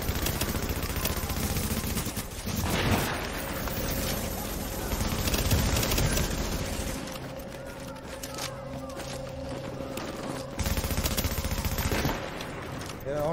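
Rapid bursts of gunfire and sniper shots ring out in The Division video game, dense and loud throughout with a steady tone underneath and a voice speaking briefly.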